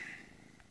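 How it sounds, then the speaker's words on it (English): Tiger-striped leopard purring softly at close range, a faint low rumbling that holds steady for a brief moment. "Listen to that purr."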